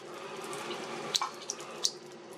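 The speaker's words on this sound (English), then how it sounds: "You want the water running kind of slowly" Water trickling slowly while a Berkey water filter is being primed, a soft steady flow close by with a few small splashy drips on top.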